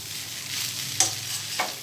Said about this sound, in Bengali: আবারও একটু সবটা মিক্স করে নিচ্ছি।